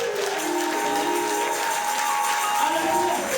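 Congregation clapping together during a church worship service, a steady continuous wash of applause with sustained tones running beneath it throughout.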